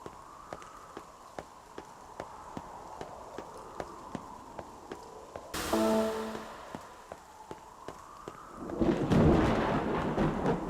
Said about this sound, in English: We got thunder coming.